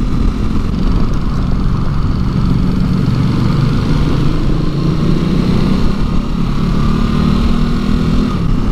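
A Ducati Multistrada V2S motorcycle engine drones steadily while riding, a loud continuous low rumble with a slowly rising tone and wind noise, heard alone without talk.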